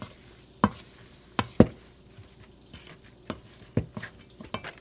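Fritters frying in a hot pan on a home stove give a low sizzle, broken by several sharp clacks of a utensil against the pan.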